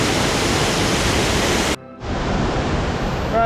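A waterfall on the Stainforth Loop walk in Yorkshire roars in a loud, dense rush of water that cuts out for a moment and then carries on just as strongly.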